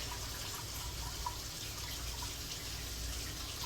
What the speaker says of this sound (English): See all the sediment that's coming off? This is why we wash our rice.